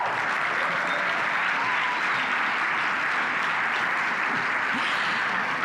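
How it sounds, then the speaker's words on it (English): A large crowd claps steadily and continuously at a startup competition grand final, a dense wash of applause holding at an even level throughout. "keep that round of applause going"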